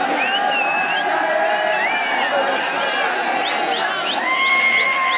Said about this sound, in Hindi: लौंडे को जोर जोर से नारे लगा रहे हैं।